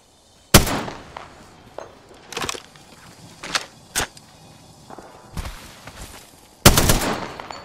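Gunfire in the video game Apex Legends while shooting a cargo bot, several loud sharp shots in separate bursts with short gaps, close and punchy.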